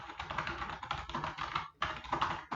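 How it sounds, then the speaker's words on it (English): Heavy, fast typing on a computer keyboard, a dense run of close key clacks with a brief pause before resuming. "Who's typing?"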